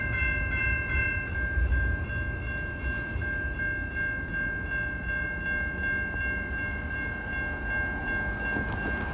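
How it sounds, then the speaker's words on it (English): A train rumbles past with a sustained horn tone held throughout, steady and fairly loud, with low rolling noise underneath. "This could be another train coming."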